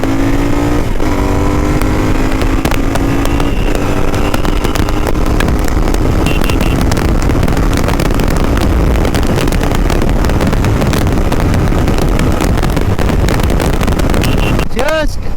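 A Royal Enfield Interceptor 650 motorcycle is ridden, its twin-cylinder engine loud and close, rising through revs and gear changes under heavy wind buffeting on the microphone.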